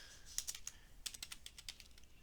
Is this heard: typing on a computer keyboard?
yes